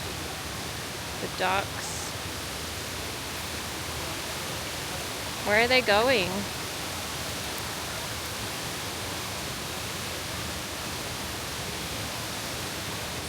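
A waterfall near Ubud gives off a steady, loud broadband rush that lasts throughout, with brief voices speaking over it twice.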